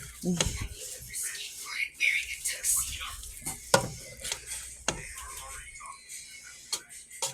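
Spoon scraping and stirring ground beef, California mixed vegetables and rice in a pan, soft intermittent clinks and scrapes with a light sizzle, someone talking quietly over it.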